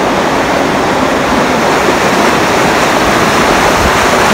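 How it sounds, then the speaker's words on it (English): A strong current of freezing-cold river water rushes in a mountain valley, a loud, steady roar of flowing water that runs unbroken with no voices over it. "Whoa, look at that strong current. It is so strong."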